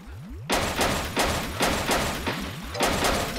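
Repeated gunshots at the Wii Play shooting range game, a loud sharp report roughly every half second to second, each with a short echoing tail, no talk.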